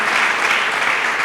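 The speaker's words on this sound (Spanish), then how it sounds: "un aplauso" Audience at a literary crime-fiction festival encounter with a writer breaks into steady, dense applause, a continuous wash of clapping from a full room with no pauses.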